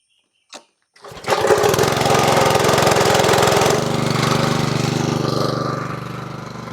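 A small pressure washer engine with a newly replaced carburetor fires up after a brief knock and settles into a loud, steady close-range run, its pitch easing slightly toward the end, with no talking.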